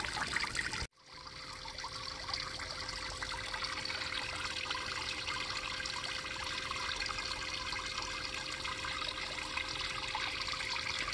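Small struggling pond pump trickling water into a garden pond, a steady close splashing trickle that runs continuously after a brief abrupt cutout near the start.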